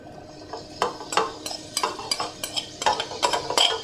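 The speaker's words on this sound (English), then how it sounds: "and then I'm going to throw in the onions. I'm going to let that heat up a bit." Onions hit hot oil in a pan and are stirred, with a series of close spoon scrapes and clinks against the pan over a faint sizzle and no speech.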